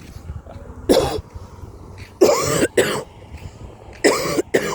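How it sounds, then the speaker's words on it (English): Several harsh, raspy coughs come in short bursts, one single and two doubled, loud and close with quiet gaps between. "I've been having this cough."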